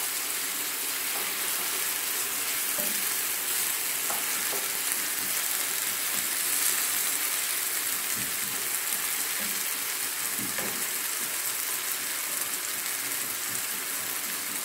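An eggplant mixture fries and sizzles in a pan while being stirred for a honey-glazed dish, a steady, close hiss running throughout with occasional scrapes and clinks of the utensil and no speech.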